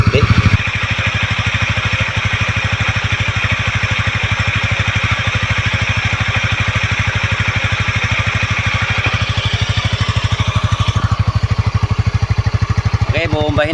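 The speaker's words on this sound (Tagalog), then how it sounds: "para marinig nyo yung pinakatunog ng makina ng ABS Racing ng Winner X double overhead cam" Honda Winner X 150cc double overhead cam motorcycle with an ABS Racing exhaust idles close up, a loud, rapid, even putter throughout, with a brief blip of throttle near the end.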